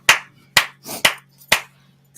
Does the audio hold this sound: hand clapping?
yes